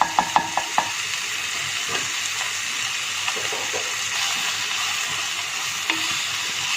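Prawns, mustard greens, grated potato and red lentil frying in a pan, a spoon stirring them with steady sizzling and a few sharp taps against the pan at the start, close and continuous.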